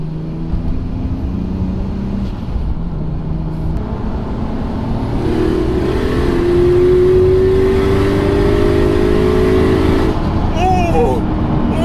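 A Nissan Skyline R34 GTR with a single turbo conversion making 530 hp pulls hard in fifth gear, its engine note climbing steadily and a rising turbo whine building over the drone, close and loud from inside the cabin.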